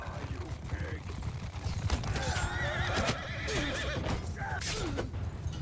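In a Mount and Blade II: Bannerlord army battle, horses whinny and neigh repeatedly over a busy rumble of hooves and battle noise, with shouting voices mixed in throughout.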